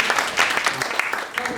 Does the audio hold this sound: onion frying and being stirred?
no